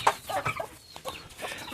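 Medak breed chickens on a Telangana farm cluck in short, scattered bursts, fairly close and moderately quiet, with no talking over them.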